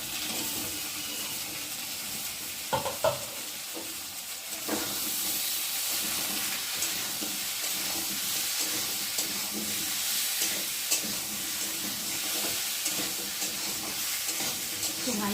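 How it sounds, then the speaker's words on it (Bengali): Potatoes frying in hot oil with garlic make a steady broadband sizzle and hiss throughout, with a few sharp clinks of a utensil stirring the pan early on and no talking. "রসুনটা ভাজা হয়ে গেছে, এখন আলুগুলোকে দিয়ে দেবো।"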